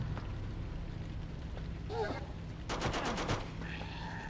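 Gunfire in the horror game Forbidden Siren 2 comes as a rapid burst of several shots, moderately loud, within a low rumbling game ambience, with a voice briefly heard nearby.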